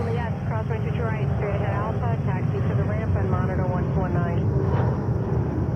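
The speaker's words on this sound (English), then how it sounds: "It's a 787-9 Dreamliner coming from Santiago" A LATAM Boeing 787-9 Dreamliner arriving at JFK in New York on a flight from Santiago, its steady jet roar held low and constant beneath continuous talk for the whole stretch.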